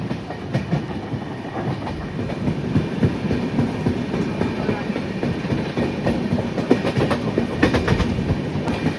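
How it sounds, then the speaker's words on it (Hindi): Train running on Indian railway track, a continuous loud rumble with rhythmic clickety-clack of wheels over rail joints throughout, close and steady with no talk. "सामने से कोई ट्रेन तो आ रही है"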